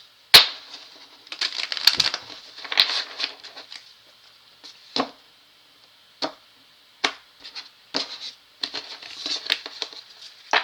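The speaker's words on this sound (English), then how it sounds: "I want to make sure I give these things a good shuffle." A deck of tarot cards is shuffled by hand, producing a steady run of papery riffling and patter broken by sharp taps and slaps, up close and with no talk.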